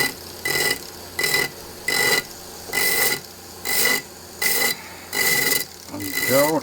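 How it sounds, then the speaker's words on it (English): A barrel sander grinds the edges of a fossil fish matrix in eight short, regular bursts, each a loud gritty rasp about half a second long with quiet gaps between, and the last pass slightly longer. "take the barrel sander and clean up some of those edges, or all those edges really"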